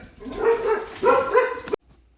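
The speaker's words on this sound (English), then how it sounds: "while the puppies were barking" Puppies barking close by, two short bursts of high, yappy barks and whines that stop abruptly, leaving near silence.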